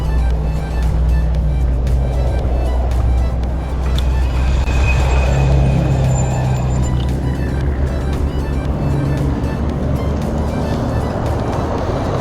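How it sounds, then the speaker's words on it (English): Steady, loud traffic roar on a busy highway: continuous car and truck engine and tyre noise passing close by, filling the whole clip with no talking. "I gotta cross this busy highway here."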